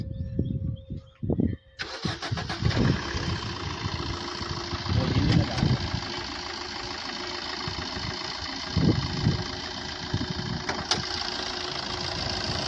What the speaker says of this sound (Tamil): இன்ஜின் ப்ரொஃபைல் பார்த்துக்கோங்க.